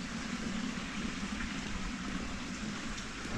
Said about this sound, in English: walk by the running water. It's just a nice sound